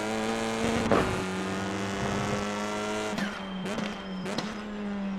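In iRacing, a TCR race car's steady, droning engine exhaust with a raspy buzzing tone, a few brief pops and tire noises, moderately loud with no talking.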